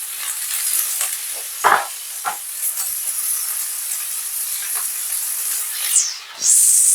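Fresh corn fries in a hot pan for Jamaican callaloo, giving a loud, continuous sizzle with a few stirring scrapes and a brief burst of hissing steam near the end.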